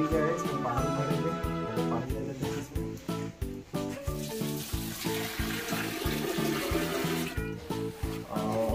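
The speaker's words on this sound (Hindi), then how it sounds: "अभी जो है इसमें पानी भरेंगे।" Tap water runs steadily into a planted aquarium fish tank after cleaning, a continuous splashing rush heard under loud rhythmic background music.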